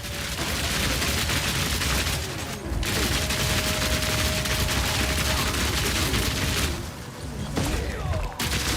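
Rapid automatic crossbow fire in Path of Exile 2, a dense unbroken barrage of shots with brief gaps, loud and close, mixed with game effects and a faint voice.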